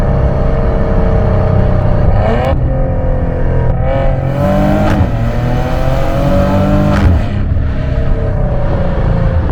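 A Maserati Ghibli with a Ferrari-built V6 accelerating from inside the cabin, engine droning loudly and rising in pitch through several gear changes, with brief dips between pulls.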